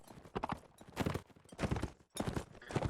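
Horse hooves clip-clop in quick, uneven bursts during a video game battle, with several close clusters of knocking steps separated by brief pauses.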